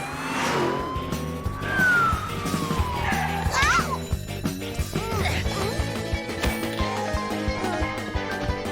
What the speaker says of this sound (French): on pourrait remettre la sirène?